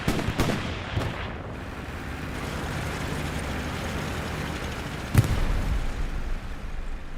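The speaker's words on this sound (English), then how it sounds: "Wow, we got an explosion." Battle noise from the video game Hell Let Loose, with a few sharp gunshot cracks early on and a single loud explosion-like thump later, set over a steady rumbling combat background.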